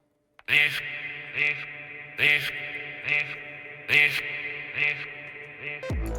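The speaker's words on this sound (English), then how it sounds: "This is what the Muffled phaser Adlib sounds like normally." A muffled, swirling processed vocal ad-lib repeating in short phrases roughly every second or so, with a sweeping phaser tone, heard alone and fairly quiet.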